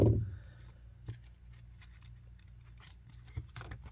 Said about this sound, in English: I'm going to just cut this top loader because I'm not going to try to fight that tape.